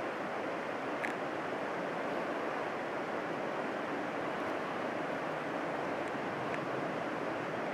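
Steady wind rushes and buffets outdoors, a broad continuous roar that stays loud throughout with no voices.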